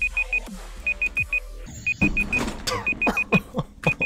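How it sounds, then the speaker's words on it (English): A timer alarm going off in repeated groups of four quick, high electronic beeps, clear and steady, with game sounds and thuds in between. "The timer's going off."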